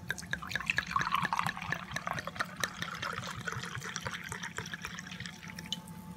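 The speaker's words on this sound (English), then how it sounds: "There's the glug coming up then." White wine poured from a bottle into a glass, with a rapid run of gurgling glugs and splashy drips, strongest at the start and then settling into a quieter trickle, close and alone.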